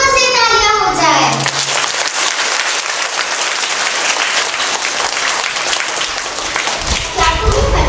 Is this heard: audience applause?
yes